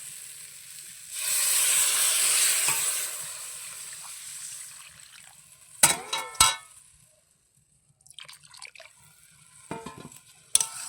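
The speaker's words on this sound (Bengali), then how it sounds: "একটু জল দিয়ে দেবো, সেদ্ধ আলু বেশি কষা দেবো।" Water goes into a hot pan of frying boiled potatoes and sets off a loud hiss that fades, followed by a few sharp clanks and quieter stirring.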